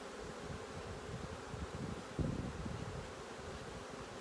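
Honeybees around an opened hive frame during queen cell work, a continuous soft buzzing hum close by with light rustling.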